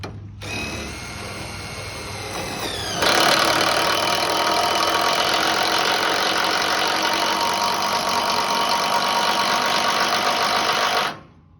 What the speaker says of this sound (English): all I'm doing is hammering the snot out of this drive bolt